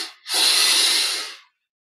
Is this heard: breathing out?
yes